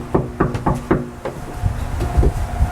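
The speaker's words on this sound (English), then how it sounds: "So I knocked on the door and somebody came and locked the door" A run of sharp knocks on a door, close and fairly loud, coming in an uneven rhythm of several raps with pauses between them.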